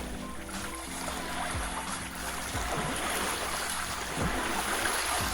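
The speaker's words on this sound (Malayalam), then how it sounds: "ആ വെള്ളത്തിന്റെ തിരയടിക്കുന്ന ശബ്ദം കേട്ടാൽ അറിയാം" Small waves lap steadily against the shore of Abraham Lake near Nordegg, Alberta, a continuous close wash of water with soft low thuds as ripples break, and no voices.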